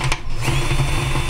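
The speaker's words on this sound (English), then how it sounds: "take a drill and drill into the top of the head like this" Power drill boring into a stripped screw head on a guitar during a bridge replacement, a steady close mechanical whine with a low motor hum running continuously for over a second.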